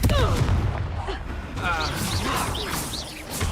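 Confringo spell blasts in the Hogwarts Legacy video game, booming explosive bursts and crashes amid chaotic combat effects, loud and close, with a voice shouting over the action.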